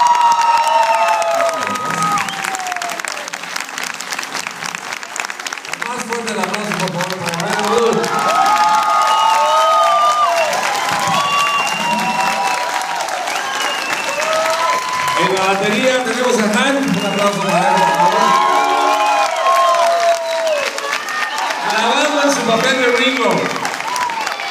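A concert audience applauds and cheers continuously at a show, a dense wash of clapping with shouts and whoops rising through it, loud and close throughout.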